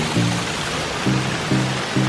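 Water rushes steadily over a man-made spillway beside a natural stream, a close, continuous broadband wash broken by a few brief low tonal bursts.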